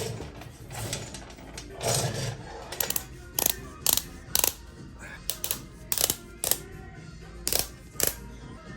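A torque wrench ratchets down front cylinder head bolts on a Harley Street Glide, with repeated sharp metallic clicks in short bursts, close and fairly loud, alongside tool handling and rustling.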